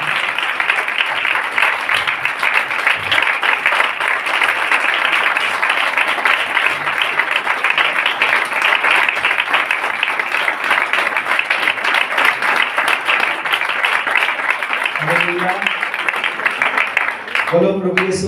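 Loud, sustained applause from a crowd at a church blessing meeting, continuous dense clapping for most of the clip before a voice briefly comes in near the end.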